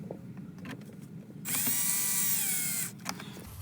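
A power driver whirs steadily for about a second and a half, backing 7mm screws out of the instrument cluster of a Jeep JL Rubicon. The sound is close and loud, with quiet handling noises before and after.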